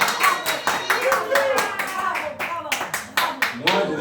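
Rhythmic congregation clapping fills a church service, with steady, close hand claps and voices acclaiming and calling out over them.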